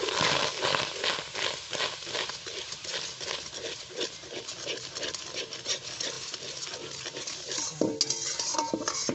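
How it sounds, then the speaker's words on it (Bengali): Raw mango and sugar are stirred for homemade mango chocolate, producing continuous rhythmic scraping and clattering of a utensil against a pan, close and steady throughout. "সমস্ত উপকরণ বেশ ভালো করে নেড়ে মিশিয়ে দেবো"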